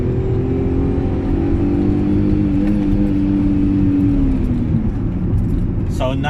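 A car pulls hard in second gear with the air conditioning running, the engine note climbing steadily and loud up close throughout, after a spark plug change to iridium plugs, with no talking.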